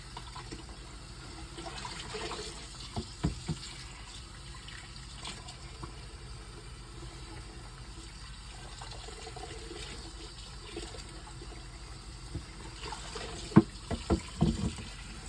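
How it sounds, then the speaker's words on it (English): Water running from a tap to top off a container in a kitchen while cooking cranberries, a steady hissing flow lasting throughout with a few clinks and handling knocks near the end. "Got to top off the water a little bit."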